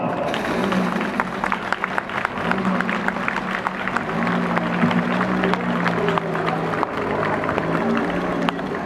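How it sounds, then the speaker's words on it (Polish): An audience applauds historical reenactors in a town market square after a staged Polish Underground action against a Nazi dignitary. Dense, steady clapping continues throughout, with a voice talking over it. "zapraszam rekonstruktorów tutaj na środek rynku i poproszę o brawa"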